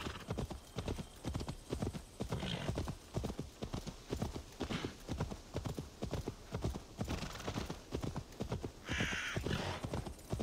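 Rapid, steady hoofbeats of a war horse galloping in Assassin's Creed Valhalla run close and continuous throughout, with a short neigh near the end and no talking.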